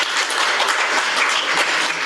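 Audience applause at a book talk on a hundred years of thought control under Korea's public security and national security laws, a dense continuous wash of clapping, loud and steady from start to end with no speech.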